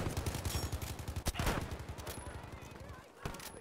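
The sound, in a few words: Gewehr M95 rifle gunshots in the Battlefield V video game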